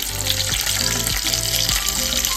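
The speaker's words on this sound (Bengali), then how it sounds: "চলো রসুনটা ভেজে নিই" Garlic frying in a pan gives a steady, close, continuous sizzle that stays at an even loudness throughout, with no voices.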